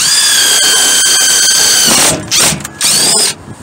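A loud, high-pitched power drill whirs steadily while drilling holes for HVAC fan motor controls, then stops and restarts in a couple of short bursts.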